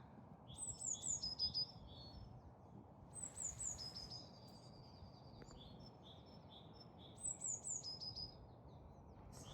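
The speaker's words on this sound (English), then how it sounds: "It's nice to listen to the birds singing." Birdsong on a spring walk outdoors: three bursts of bright twittering phrases come in repeating bouts separated by quieter stretches, set against a soft constant ambient rumble, moderately distant.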